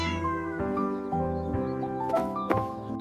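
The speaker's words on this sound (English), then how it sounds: "These cats love playing here." Cats in a village yard meow in a run of clear, drawn-out calls that rise and fall and overlap one another, close and moderately loud, with no talking.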